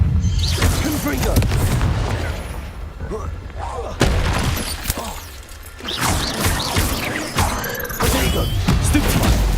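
A Confringo fire spell is cast in the Hogwarts Legacy video game amid combat, with loud booming blasts, crashes and mechanical creaks layered densely over a constant game soundtrack.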